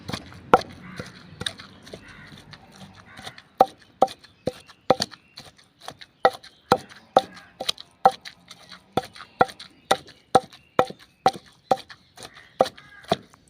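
Homemade coriander chutney is pounded in a kundi sota, a mortar and pestle, giving a steady run of sharp, close thuds about twice a second, with a few softer grinding sounds at the start and no talk.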